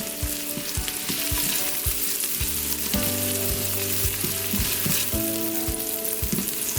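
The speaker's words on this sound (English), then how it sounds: "When the butter is melted, now you want to add your onion. You want to saute this for about a minute or 2." Onion sautéing in melted butter in a pot, a close, steady sizzle broken by frequent metallic knocks and stirring clatter, with faint tonal ringing throughout; no voices.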